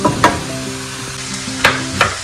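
Ground beef mince cooking in a pan on the stove, a close hiss of frying meat with a few sharp spatula scrapes and stirs spaced across the moment.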